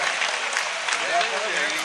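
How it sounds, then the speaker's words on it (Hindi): Steady applause from the audience at a mushaira award ceremony, a dense wash of clapping held at an even level throughout. "सबके लिए जोरदार तालियां बजाएं"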